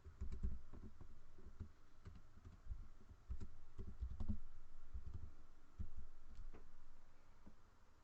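Fingers type steadily on a computer keyboard, with soft, close clicking keystrokes in irregular bursts and no voices.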